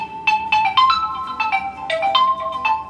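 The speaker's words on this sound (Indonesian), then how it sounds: "Loh, ada telepon." A telephone ringtone plays a bright, repeating electronic melody of quick chiming notes in short phrases, loud and close, with no voices over it.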